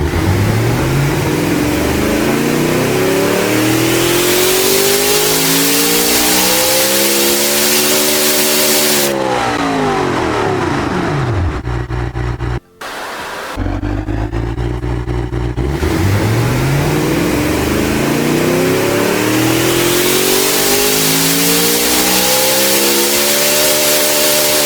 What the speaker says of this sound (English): Nice lopey loud V8 from the German Bavarian colors